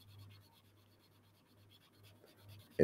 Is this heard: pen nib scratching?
yes